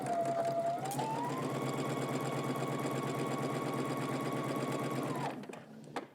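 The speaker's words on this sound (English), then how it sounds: "So we're going to stitch starting at the top" Home sewing machine running steadily through a 5/8-inch seam allowance, one continuous loud whirring stretch of about five seconds before it stops, with a rising motor tone at the start.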